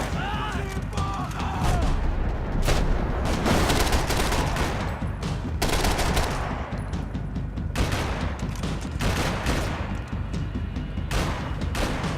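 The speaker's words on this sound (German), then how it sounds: "Wir haben ja noch irgendjemand, der schießt." Rapid gunfire in the video game Max Payne 3 on a party yacht, dense, loud bursts of shots and booms following one another almost without pause, with a voice briefly audible underneath.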